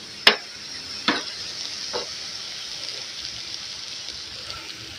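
Precooked shrimp fry in a pan, a soft steady sizzle broken by a few sharp clicks and pops as they are spread out, close by with no talking.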